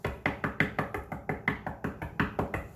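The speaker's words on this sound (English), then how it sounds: "She knocked and knocked, and finally Mr. Boney came to the door." A door is rapped repeatedly in a steady, even rhythm of about fourteen firm knocks, each close and resonant, with nothing else heard around them.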